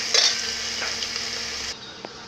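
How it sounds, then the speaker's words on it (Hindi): Chopped onions sizzle and fry steadily in a hot pan while chicken is being cooked, a continuous close hiss with a faint clink near the end. "ये देखिए ये प्याज डाल दिए हमने और इसको हम थोड़ी देर तक भूनेंगे"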